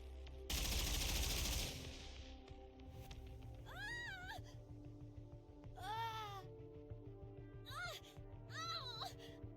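An experimental suppression round fires in the Goddess of Victory: Nikke video game as one loud, dense burst of gunfire. Afterwards there are quieter stretches with several high, wavering voice-like calls over a low background.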